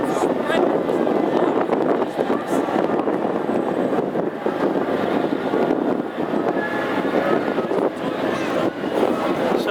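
Classic hot rod race cars at Hednesford pulling away on a rolling lap start, a loud sustained engine roar filling the whole stretch with a commentator talking over it.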